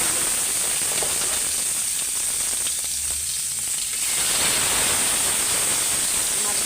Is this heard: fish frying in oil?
yes